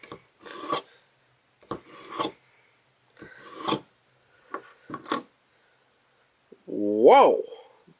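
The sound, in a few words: Sharp N Easy 2-step knife sharpener sharpening Tonto blade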